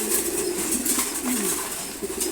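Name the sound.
pigeons cooing in a loft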